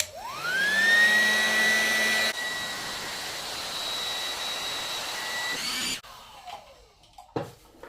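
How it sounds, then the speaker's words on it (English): An electric air bed pump runs while it pulls the air out of a mattress. The motor whines up and holds a steady loud hum for several seconds, shifts to a lower drone, then cuts off, leaving a few faint clicks. "this pump was able to suck out all the air from the mattress"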